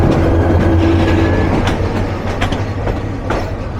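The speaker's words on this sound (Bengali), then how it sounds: "চট্টগ্রাম থেকে ছেড়ে আসা ঢাকা মেল।" The Dhaka Mail from Chittagong passing at close range in Bangladesh, a loud continuous roar of rolling wagons with rhythmic clickety-clack of wheels over rail joints.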